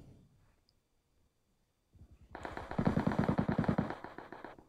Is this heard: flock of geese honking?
no